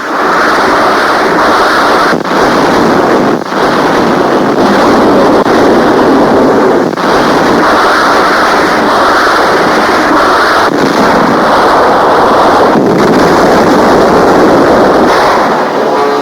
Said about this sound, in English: Rocket fire plows up enemy cave defenses on shore.